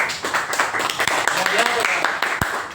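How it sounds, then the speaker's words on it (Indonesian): A classroom of children gives uneven, scattered claps for a pupil named Andika, with a teacher's voice speaking over and in between the sharp, irregular hand claps. "Tepuk tangan untuk Andika"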